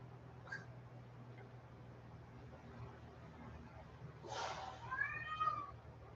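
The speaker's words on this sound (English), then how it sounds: "But she meows." A pet cat meowing indoors, with a faint short mew early and then a louder drawn-out meow near the end over a steady low hum.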